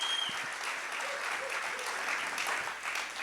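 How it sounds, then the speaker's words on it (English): A live audience applauds at a speaking event in Hawaii, with steady, dense clapping throughout and a voice faintly audible over it. "Let's give him another round of applause for flying out here."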